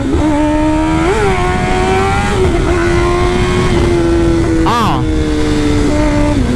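A motorcycle engine revs loudly up close, its pitch rising and falling, with a brief sharp crackle of exhaust pops partway through.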